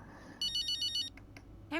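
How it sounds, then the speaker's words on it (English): A telephone rings in the F1 23 video game on PS5, a bright electronic ringtone pulsing in several quick bursts, followed by a short chirp and the start of another ring. "I'm sure we're going to get a phone call."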